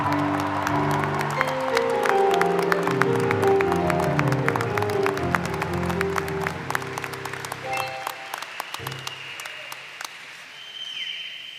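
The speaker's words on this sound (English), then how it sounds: "Let's give another round of applause for our new alum." A graduation audience at a university baccalaureate ceremony claps steadily in dense, sustained applause over loud music, thinning out toward the end.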